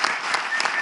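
Dense, steady applause from a studio audience fills a brief moment, many hands clapping together at an even level.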